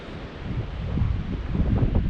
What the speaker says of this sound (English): It's still a little windy.